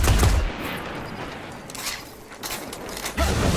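Gunfire in the video game Destiny, a steady stream of rapid shots and mechanical clatter throughout, loud and close.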